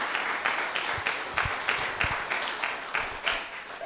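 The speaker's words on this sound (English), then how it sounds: "Please give another big round of applause to GauraNataraja Prabhu." Audience at a temple Sunday talk applauding a speaker, with sparse, rhythmic clapping from a modest crowd, the individual claps distinct and evenly spaced, moderately loud in a reverberant room.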